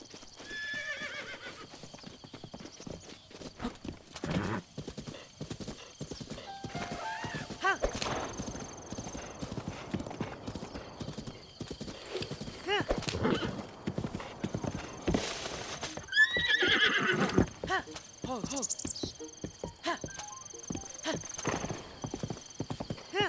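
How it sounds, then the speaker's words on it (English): Horse hooves clip-clop in a steady, repeated rhythm in the Zelda: Breath of the Wild video game, with a few loud neighs and whinnies breaking in, while someone talks over parts of it. "What are you doing, horse? Come on. You gotta soothe him."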